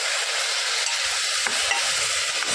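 Pig trotters are stirred and sautéed in a pan with a loud, constant hiss of frying, with faint scraping from the stirring and no voices.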